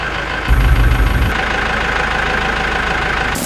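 A tractor engine idles steadily while harvested rice paddy is loaded into it, a continuous mid-pitched mechanical hum with a brief heavier rumble near the start.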